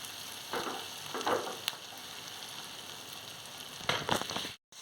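Sliced onions fry in a pan with a quiet, steady sizzle, broken by a few louder bursts of crackling as they are stirred, with no talking.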